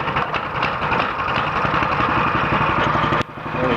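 A small mini bike engine runs steadily after a pull start, a close, loud idling putter with a fast even rhythm, briefly dipping near the end.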